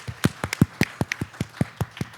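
Audience applause for the panelists at a technology panel discussion, heard as a sparse, fairly faint scatter of individual claps with a loose, uneven rhythm rather than a full ovation.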